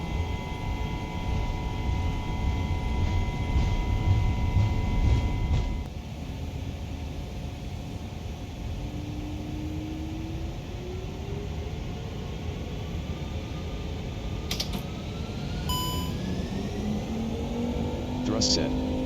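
Airbus A330-900 engines spooling up to takeoff thrust in a flight simulator sound pack, a steady loud broadband roar with rising tonal whine, briefly dropping in level before building again with climbing pitch.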